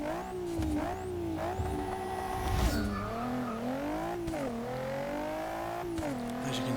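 A 2015 Porsche Macan Turbo engine in Forza 6 revs hard, its whining pitch climbing and dropping repeatedly as it shifts through gears, loud and close.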